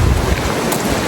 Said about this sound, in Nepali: खोलाको आवाजले आनन्द आइसक्यो क्या